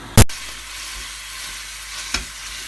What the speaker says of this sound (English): we're heating up some olive oil, and we're going to add our minced meat